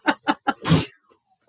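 Three quick sharp intakes lead into a single loud burst of a human sneeze, close and clear, followed by brief quiet and the start of a voice.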